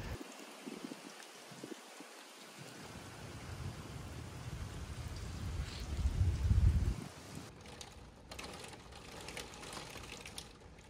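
Steady rain from Hurricane Idalia's outer bands falls outdoors in central Florida with a broad hiss, swelling with a low rumble in the middle before easing into lighter patter.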